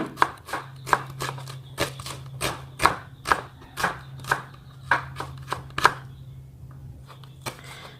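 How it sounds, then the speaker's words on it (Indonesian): A knife slices a single onion lengthwise on a cutting board, giving a quick, fairly regular run of crisp taps close by that stops near the end. "1 buah bawang bombay ya, saya iris memanjang seperti ini"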